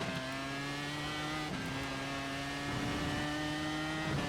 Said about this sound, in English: Just hit the rev limiter so quickly